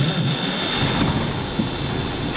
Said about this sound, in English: That's a cold start of an L10 Cummins engine, 1985.